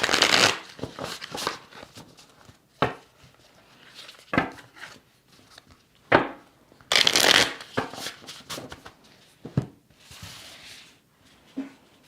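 A tarot card deck is shuffled at close range during a live reading, with several quick riffling bursts and short pauses between them, no voices over it.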